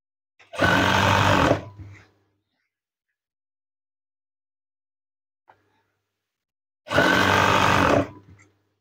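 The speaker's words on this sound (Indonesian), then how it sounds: "Jahit dari awal hingga ke bagian akhir." A sewing machine stitches curtain fabric in two loud, steady whirring bursts of about a second each, separated by a long silent gap with a single faint click.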